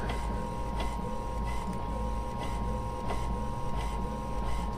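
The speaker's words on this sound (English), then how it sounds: "So now it's just going to print it out." An inkjet printer feeding and printing a page for a Cricut print-then-cut project, with a steady mechanical whir and regular carriage passes and clicks running throughout at close range, no talking.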